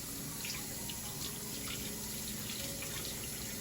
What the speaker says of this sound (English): Now I'm gonna cut this cranberry and I'm gonna rinse it.